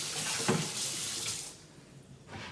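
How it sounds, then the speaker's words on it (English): A kitchen knife sticky with sushi rice starch is rinsed under a running tap, giving a steady close hiss of flowing water with a brief splash that then tapers off. "So I'm just going to rinse my knife."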